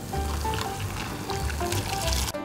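Hot water poured into a cup of instant tempura udon noodles, a close steady gurgling pour lasting a couple of seconds before cutting off.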